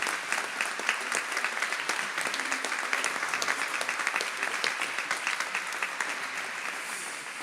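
Applause from a seated audience at a Radio Maria event in Paris, warm and continuous with individual claps audible in the mix, moderately loud and holding steady throughout.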